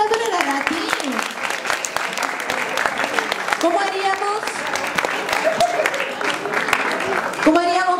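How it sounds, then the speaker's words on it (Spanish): Audience applause at a cosplay contest, steady clapping throughout with voices and speech running over it and some musical tones rising near the end. "que se escuchen nuevamente las palmas para Dolores Arati"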